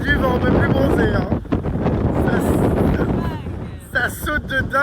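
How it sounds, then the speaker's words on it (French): Strong wind buffets a boat out at sea, a loud, continuous roaring rush across the whole stretch, with people's voices and exclamations mixed in over it. "Ah bah là, il y a du vent, on peut plus bronzer"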